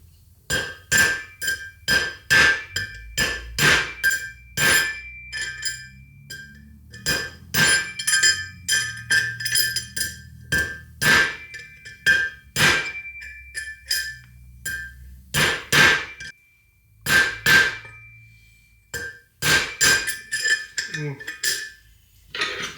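Steel strikes ring out as a hammer drives a drift while rebuilding a Toyota independent front suspension wheel hub, with dozens of sharp, bright metallic blows in uneven bursts and short pauses between them.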